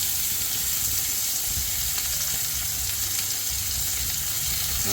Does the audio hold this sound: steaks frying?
yes